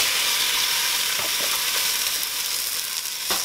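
Turkey chili ingredients fry in a very hot, smoking pan, giving a steady loud sizzle and hiss with a few faint scrapes as they are moved around.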